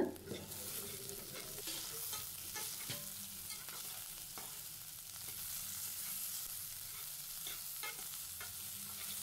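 Onions sautéing with crushed ginger-garlic paste and curry leaves for prawn gravy, a soft steady sizzle with repeated scraping stirs of a spoon, close and quiet, without speech.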